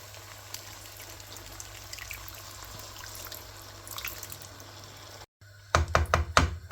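Water poured into simmering chicken gravy masala in a pan, restaurant style: a steady low hiss and trickle, then a brief gap followed by a few louder splashing knocks close by.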